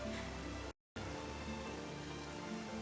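Steady, dense rain falls in Octopath Traveler 2, a continuous hiss with one brief dropout of silence partway through and no voices.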